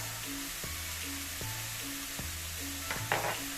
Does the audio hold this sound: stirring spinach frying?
yes